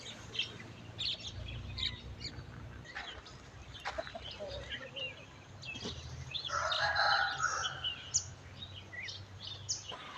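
A rooster crows at a rural temple in Chae Hom, Lampang, on a winter day, one clear call rising midway amid scattered chirps and clucks from other birds.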